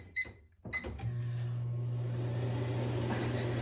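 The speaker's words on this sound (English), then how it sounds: "my microwave's really loud" A household microwave oven running in a kitchen: a steady, loud hum with a constant low drone begins about a second in and continues unbroken, preceded by a few brief clicks and knocks.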